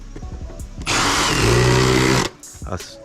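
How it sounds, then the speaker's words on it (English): An impact driver whirs steadily for about a second and a half driving a screw, loud and close, with brief mechanical clicks before and after. "let me get my 18 gauge impact driver and line this guy up"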